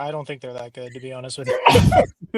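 A person talks briefly, then a single sharp, breathy sneeze bursts out close to the microphone near the end, followed by a short pause.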